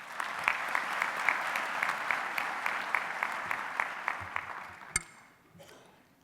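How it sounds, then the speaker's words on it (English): A graduation ceremony audience claps steadily in a large hall, with sharp individual claps standing out, then the applause fades after about five seconds. "Another round of applause."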